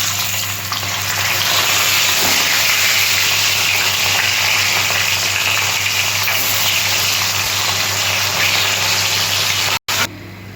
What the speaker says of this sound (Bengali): বাকি মাছগুলো আমি ওইভাবে ভেজে নেব।